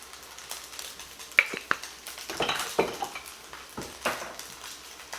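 Fried rice seasoned with ginger, salt, black pepper and soy sauce is stirred in a pan, giving scattered scrapes and clinks of a utensil against metal over a faint sizzle, close and moderately loud.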